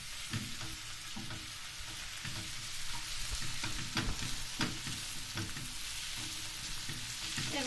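Pickles fry in a pan with red pepper flakes, a close, steady crackling sizzle broken by the scrape and tap of stirring, with no talking.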